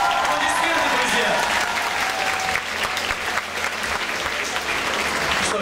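Audience applauding at a school stage event, dense steady clapping from a crowd that holds for several seconds with faint voices and a brief tone mixed underneath.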